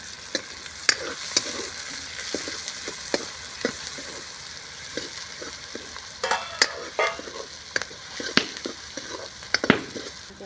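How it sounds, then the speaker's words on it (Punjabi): Finely chopped onions with coriander fry and sizzle in a pan for a paneer and vadiyan curry, a steady hiss broken by frequent clacks and scrapes of a stirring spoon, close up with no talking. "ਆਪਾਂ ਜੀ ਪਿਆਜ਼ਾਂ ਨੂੰ ਵੀ ਹਲਕਾ ਜਿਹਾ ਬਰਾਊਨ ਜਿਹਾ ਕਰ ਲਾਂਗੇ"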